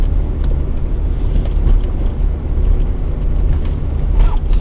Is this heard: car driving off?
yes